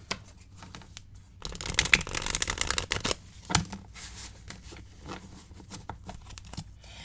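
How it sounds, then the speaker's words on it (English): Tarot cards are shuffled close up in a quiet room, giving soft papery riffles and crisp flicking bursts in several uneven waves with short pauses between, and no one speaking. "normally when I shuffle the deck, I shuffle it like this"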